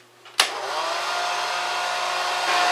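A clock-parts dryer box switches on with a sharp click, then its fan and heater settle into a steady, even broadband whoosh that holds close and constant, with no voices.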